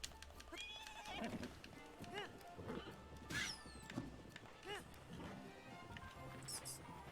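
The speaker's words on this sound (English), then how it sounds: "Come here, horse." Hoofbeats clatter and thud irregularly amid Shrine Hunters game sound effects, with a horse whinnying and sharp impacts scattered throughout.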